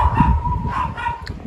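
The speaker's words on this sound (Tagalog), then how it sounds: "Ayan, ingay na ng mga aso namin." Household dogs barking noisily, a run of quick, close, high-pitched yaps and yips blending into a continuous clamor with no talk over them.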